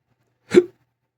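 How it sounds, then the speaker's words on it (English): A single abrupt hiccup from a man, close and clear, a brief voiced gulp in an otherwise silent moment. "Now I got the hiccups"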